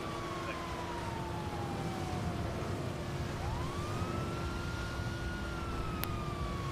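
A police siren in the game NoPixel wails steadily in the distance, its pitch sliding down then rising again, over constant background noise without speech.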